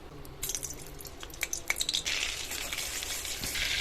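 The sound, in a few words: butter melting and sizzling in a hot pan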